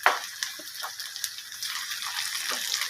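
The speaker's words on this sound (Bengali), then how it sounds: "খানিকটা পেঁয়াজ ভাজা তুলে নেব।" Onions fry in oil for a paneer biryani, a steady close sizzle and hiss with a few brief crackles, heard alone.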